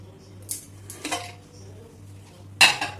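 A few soft metallic clinks and knocks, then a sharp clattering release of a pressure cooker lid after three whistles while cooking pav bhaji, with a steady low hum underneath.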